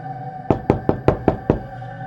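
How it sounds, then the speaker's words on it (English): Six firm knocks on a door land in an even, fairly quick rhythm, close and loud against a quiet, tense ambient background. "The knock came again, louder this time."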